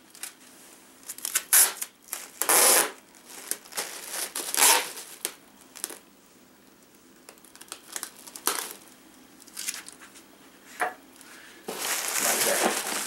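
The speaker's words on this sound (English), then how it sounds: "I'm gonna just tear off the excess and tape this one down" Wrapping material is torn off and taped around a saxophone being packed for shipping, with close crinkling, ripping and tape-pulling noises in irregular bursts and no talk.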